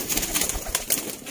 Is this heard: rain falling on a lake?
no